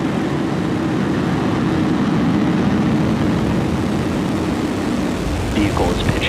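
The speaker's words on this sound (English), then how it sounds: "Ignition and liftoff Falcon 9." A SpaceX Falcon 9 rocket lifting off on the Transporter 16 rideshare mission, a continuous deep rumbling roar that stays loud and steady throughout.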